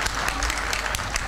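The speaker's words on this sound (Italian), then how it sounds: "Gli facciamo un grosso applauso" Brief burst of dense clapping from an outdoor audience in a park, steady and fairly close, with no voices standing out.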